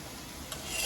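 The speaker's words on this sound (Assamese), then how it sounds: "এইফালে বুট ভাজি আছোঁ" Chickpeas frying in oil in a pan, a steady soft sizzle with a brief clink of a spoon and a brighter hiss swelling toward the end, no talking.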